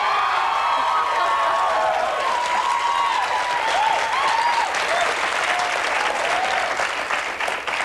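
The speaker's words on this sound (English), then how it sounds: "as I was enjoying your applause" Studio audience on a 1998 talk show applauding, dense sustained clapping with some cheering and whoops throughout, loud and close, tapering slightly at the end.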